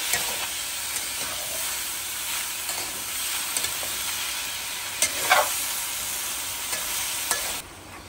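Radish being stir-fried with spices in a pan: a continuous close sizzle and hiss with occasional scraping stirs and clinks, steady throughout and easing near the end, with no voices.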